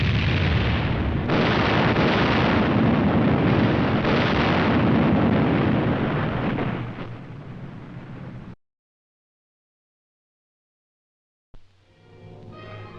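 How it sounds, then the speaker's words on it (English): Napalm drop explosions in a saturation firebombing test from 1952 military footage: a loud, sustained roar of blasts lasting about eight seconds, then sudden silence and a low rumbling return. "such as this napalm drop in a saturation firebombing test."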